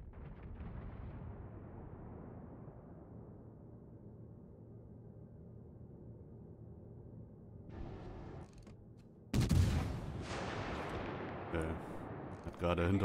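Naval gun salvos boom in World of Warships Legends, with a low, rumbling roar fading out early, then a sharp loud blast of gunfire later followed by further crackling shots.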